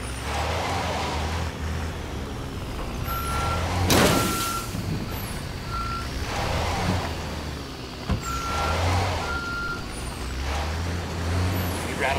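Vehicle driving in the video game Ghost Recon Wildlands, a steady engine rumble with repeated short electronic beeps, a sharp hiss around the middle and periodic rising sweeps, no talking.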